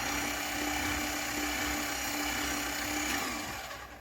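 A paper shredder motor runs with a steady, loud grinding whir, then winds down toward the end; no one speaks.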